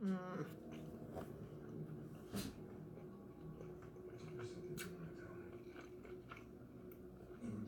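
Chewing on a blue cheese bite, close and quiet, with soft, irregular wet mouth sounds and a few sharper clicks and smacks.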